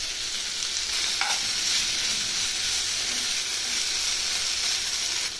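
Coriander and spices, with ginger-garlic paste, sizzle steadily in a hot pan for rajma masala curry, a constant close frying hiss with a faint clink of stirring early on.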